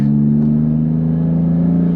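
A Jeep Wrangler with an aftermarket exhaust accelerates, its engine droning loud and close with a deep, throaty exhaust note, steady and sustained with little change in pitch.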